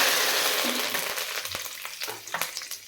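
Ingredients fry in a pan, a bright sizzle that fades a little while a spoon stirs with scattered scrapes and taps, no talking.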